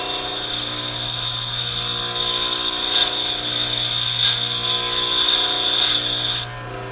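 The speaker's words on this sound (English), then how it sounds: "I'm going to grind from the back side and then work my way up to the front" A lathe bit is ground against a bench grinding wheel, giving a steady, loud abrasive hiss with a thin high whine over a constant motor hum, continuing unbroken until the contact lifts near the end.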